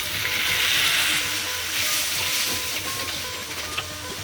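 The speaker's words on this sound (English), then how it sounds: "let the tomato to stir fry until it has turned mushy" Chopped tomatoes stir frying with softened green chilies and ginger garlic paste for chicken pulao, a loud continuous close sizzle and hiss with light stirring scrapes, no talking.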